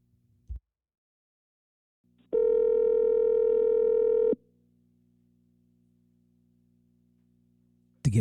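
A telephone line gives a steady dial tone, broken by one loud continuous buzzing tone lasting about two seconds, as a trucker dials to reconnect a dropped call; a brief sharp burst lands at the very end.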